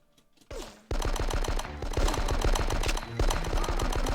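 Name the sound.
gunfire in Die Hard Nakatomi Plaza video game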